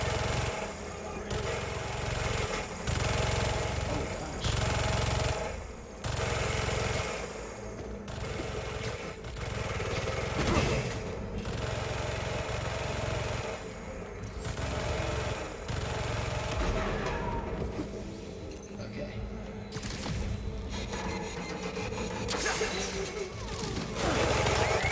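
Turret gunfire in Marvel's Spider-Man 2 keeps up nearly nonstop for the whole stretch, rapid bursts chattering over a loud, dense action backdrop with short dips between volleys.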